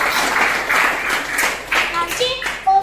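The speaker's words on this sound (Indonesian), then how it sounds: "tepuk tangan dong buat Listi" Students in a classroom clap for a classmate after her math presentation, a brief burst of scattered hand claps with voices talking over it toward the end.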